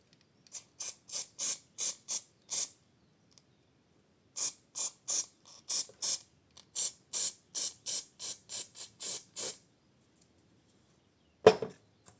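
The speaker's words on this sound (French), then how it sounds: "Encore un coup de bombe. Cette fois-ci pour fixer." Aerosol spray can applying fixative to a miniature fairy village model, heard as short hissing bursts in two runs of quick rhythmic puffs, close and clear, followed by a single sharp knock near the end.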